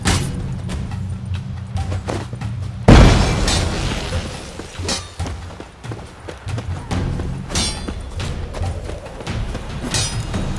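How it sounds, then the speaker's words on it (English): A bomb goes off with a sudden loud boom in The Witcher 3 during a fight, followed by a noisy clatter of combat and hoofbeat-like thuds. "Throw a bomb"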